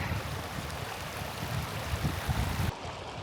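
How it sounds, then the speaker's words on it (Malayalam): A mountain stream rushes and gurgles close by in a continuous broadband wash that cuts off abruptly near the end. "അപ്പോൾ ആ കാണുന്ന മലയിടുക്കുന്നാണ് ഈ ഒരു വെള്ളം വരുന്നത്"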